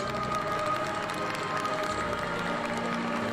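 An audience breaks into sustained applause with mixed cheering. The clapping stays dense and fairly loud the whole way through, like a crowd heard from within the room.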